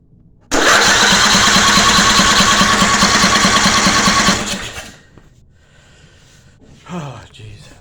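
A 22 horsepower Briggs engine cranks loudly and steadily for about four seconds close by, then the cranking winds down and stops without catching, followed by quiet handling noises.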